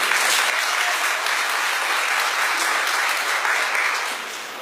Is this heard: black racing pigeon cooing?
no